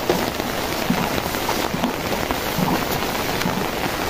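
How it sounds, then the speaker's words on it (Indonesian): Heavy rain pours steadily on surfaces during a cloudy afternoon in flood season, a dense, continuous wash of drops with a few louder spatters and no voices. "memang mendung sahabat, mendung, hujan lebat lagi"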